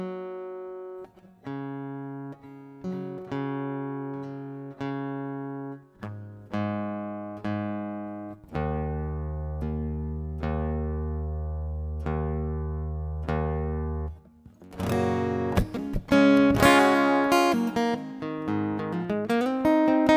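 Guitar notes ring out in slow sustained phrases, building to busier strummed and picked passages toward the end, played alone and close.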